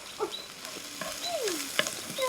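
Finely chopped onions sautéing in a pan for chicken momo filling, a soft continuous sizzle broken by light stirring scrapes and a few brief squeaky utensil sounds, close but fairly quiet.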